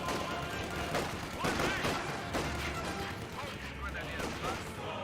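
An MG42 machine gun in Company of Heroes 2 fires against Soviet combat engineers in rapid broken bursts, set amid dense battle noise and other gunfire in a wartime strategy game, with a continuous loud din throughout.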